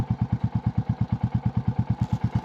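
A Royal Enfield Bullet 350 on a sunny ride lets out a steady, evenly spaced exhaust thump, a deep rhythmic single-cylinder beat pulsing close and loud from start to end.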